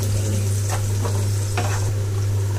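Fresh curry leaves dropped into hot oil in a pan while making kadhi, giving a steady close sizzle with a low cooking hum and a few faint stirring clicks, no voices.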